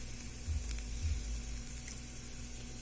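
Small chopped ginger pieces fry in a pan for buttermilk rasam, giving a steady hissing sizzle with a low hum beneath, constant and moderately close.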